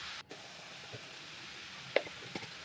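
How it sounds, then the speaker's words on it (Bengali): Radish, peas and tomatoes fry in a pan with a fish head, giving a faint, steady sizzle with a couple of soft stirring knocks. "মটরশুঁটি, টমেটোগুলো দিয়ে ভেজে অল্প নাড়ায় চাড়ায় নিয়ে মূলোগুলো দিয়ে দিয়েছি"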